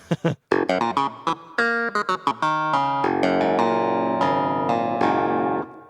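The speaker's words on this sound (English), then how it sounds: "that's the only riff I can do that feels right on a clavinet" Funky clavinet riff played dry with no reverb, bright percussive plucked notes in a quick syncopated run, then sustained chords with short staccato stabs, close and alone.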